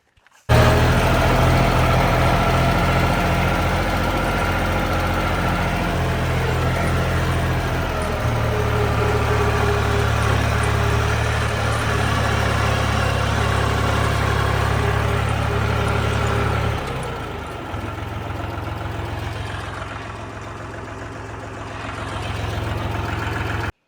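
A tractor engine runs loud and close at a steady idle-like drone on a farm during grass hauling, then the tone drops and quietens partway through as it moves off. No voices.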